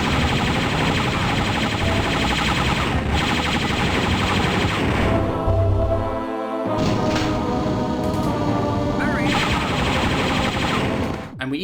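Rapid, dense gunfire from a supercharged weapon in the 1995 PC shooter Star Wars: Dark Forces, sustained and loud through most of the stretch with a short lull midway, layered over game effects.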